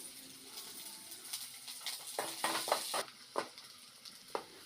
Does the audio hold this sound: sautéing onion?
yes